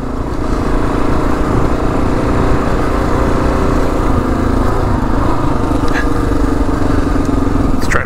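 A 2022 Kawasaki KLR 650 dual sport motorcycle ridden off-road in a high gear, its engine a loud, steady, close drone that holds without letup throughout, with wind rush over it.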